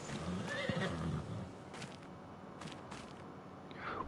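A horse whinnies with a rising, shaky neigh up front in Farming Simulator 25, followed by quieter shuffling and a few soft knocks, with a brief snort near the end.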